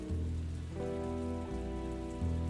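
Steady rain falls continuously and fairly loud with no voices, a dense wash of drops that holds even throughout, accompanied by faint sustained tones.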